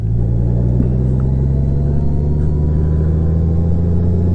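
A Honda Gold Wing DCT motorcycle accelerates in fourth gear, a loud, steady, close engine drone with a slowly rising tone, alone with no speech.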